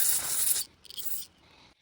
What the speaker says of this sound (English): Make sure that it flows that carb spray properly through there and blow it out as well.